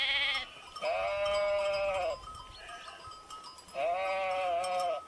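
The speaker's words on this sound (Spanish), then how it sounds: "Una oveja." A sheep bleats three times, each call a wavering, nasal cry lasting around a second, loud and close, separated by short quiet gaps and free of speech.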